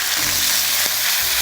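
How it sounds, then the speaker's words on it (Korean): White wine poured into a hot pan of bacon, bursting into a loud, steady sizzle that holds for over a second without any voices. "여기다가 화이트 와인을 살짝 넣어주고"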